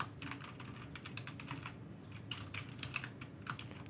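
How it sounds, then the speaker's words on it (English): Fingers type on a computer keyboard in a quick, irregular run of close, crisp key clicks, with a few louder taps near the end and no speech over it. "just type in timestamps here"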